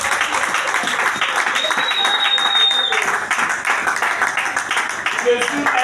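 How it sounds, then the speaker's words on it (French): A congregation in a church service applauds continuously, dense clapping mixed with voices calling out, loud and close throughout. "Acclame très fort le Seigneur."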